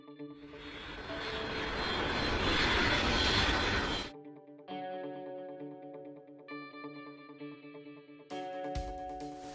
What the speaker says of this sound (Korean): 비행기 타고 찾아가는 겁니다.